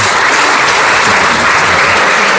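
A church congregation bursts into applause after a prayer: loud, dense, continuous clapping from many people filling the short span without pause.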